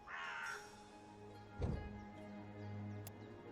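A bird in the adventure game Dreamfall Chapters gives a single raspy caw at the start, followed by a soft thump and low ambient game hum.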